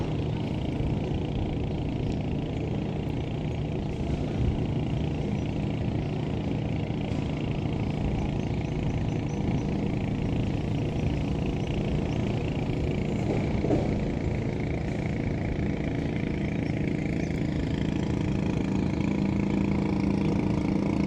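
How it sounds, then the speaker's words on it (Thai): Long-tail boat engine of a coastal fishing boat near a fishing pier on the Pattani River, a continuous low droning rumble that holds steady and loud throughout, with no voices. "ที่ได้ยินเสียงลั่นมานั้นคือเสียง เรือหางยาว ของ ประมง ชายฝั่ง หรือประมงพื้นบ้านนะครับ"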